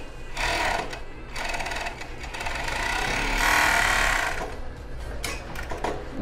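A sewing machine stitches the lining edge of a bra cup in several close, rapid bursts of mechanical chatter with brief pauses between runs, loud and near, with no talking.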